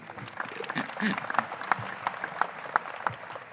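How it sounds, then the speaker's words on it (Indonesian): Clapping from a crowd, a steady patter of many hands with a few voices mixed in, moderately loud and fairly close. "Tepuk tangan buat Kediri."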